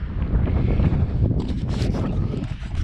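Wind blowing across an open Pacific Northwest hillside during a heatwave, a continuous close buffeting rush against the microphone with no voices.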